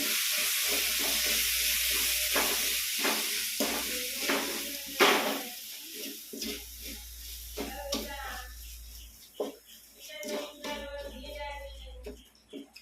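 Sizzling and scraping in a pan as egg gravy with lemon juice is stirred, with intermittent spoon clatter and a low background hum throughout.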